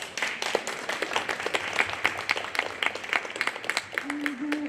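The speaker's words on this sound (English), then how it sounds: "So let's give another round of applause." Moderate audience applause at a scientific presentation festival, scattered individual claps forming a loose, medium-loud round with a faint voice or tone near the end.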